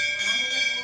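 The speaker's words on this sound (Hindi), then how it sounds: "इतनी घंटी बजाते, इतने घंटे बजाते" Small temple bells ringing during worship at home, a bright sustained metallic ring held steady for a brief moment, fairly faint.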